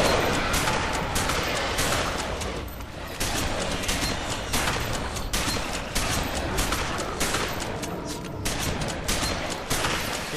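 Rapid, repeated gunfire from a shotgun in the sci-fi shooter Alien Breed Impact, with loud sharp blasts coming in quick bursts over about ten seconds, near and harsh, with no talk over it.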